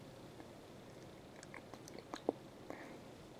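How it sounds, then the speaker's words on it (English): Quiet chewing of gum close to the mouth, with soft wet smacks and a few small clicks spread irregularly, one sharper snap standing out, in an otherwise hushed room. "Yes, I'm chewing on some gum."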